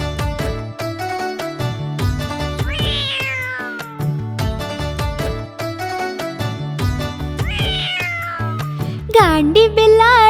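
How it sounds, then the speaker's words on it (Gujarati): A cartoon cat meows repeatedly in a Gujarati kids' animal story, its drawn-out rising and falling cries recurring over a rhythmic musical backing, ending with a sharper, wavering yowl. "ગાંડી બિલાડી"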